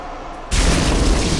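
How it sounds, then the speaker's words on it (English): A loud, sudden boom in the video game Bloodborne bursts in after a quiet stretch, then rolls on as a sustained, heavy rumble. "That booming sound was really loud"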